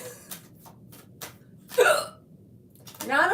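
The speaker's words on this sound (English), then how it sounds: "I got the hiccups." Several sharp hiccups from a person, short bursts spaced irregularly with brief breathy voiced sounds between them, close and fairly loud.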